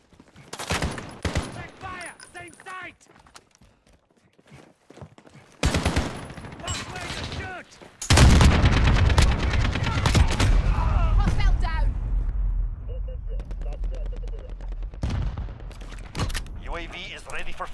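Gunfire in Call of Duty Modern Warfare: bursts of sharp rapid shots, then a dense, loud stretch of sustained automatic fire and booms, with in-game voices shouting over parts of it.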